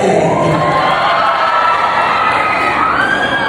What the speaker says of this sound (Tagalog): Pwede po bang humingi ng palakpakan kaunti? Hihingi na rin po ako ng sigawan ng kaunti.